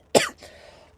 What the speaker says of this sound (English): clear my throat out